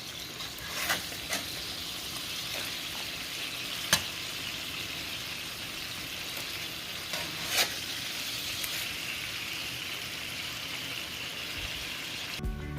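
Burgers sizzling in a hot pan, a steady bright crackling hiss throughout with a few scattered louder pops and spits, close and continuous with no talking.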